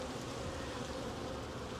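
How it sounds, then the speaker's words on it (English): Honey bees hum around an open hive during a colony inspection, a continuous close, dense buzz with no voices. "there's a lot of bees here for not a lot of food"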